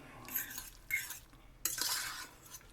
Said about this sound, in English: A bit of a stir.